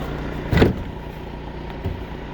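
A 2024 VW Crafter van engine idles steadily in frosty weather with a low, even hum, interrupted by a short clunk early on and a fainter knock later.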